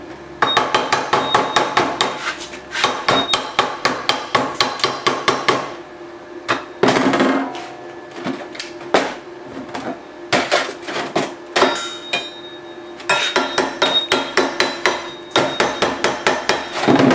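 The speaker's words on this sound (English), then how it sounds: "I'm going to clean the slag off" A hammer chips welding slag off a broken metal gate rod in bursts of rapid, sharp metallic taps, close and loud, with short pauses between volleys.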